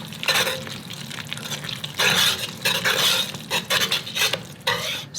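Stock is whisked into a roux in a pot, producing continuous scraping, swishing strokes with a wet, bubbling texture, loud and close, coming in uneven surges with no talk.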